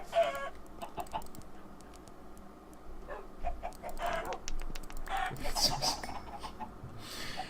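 Chickens clucking in the Minecraft video game, a series of short, scattered clucks and squawks at moderate volume over a noisy, busy game background, with no clear speech.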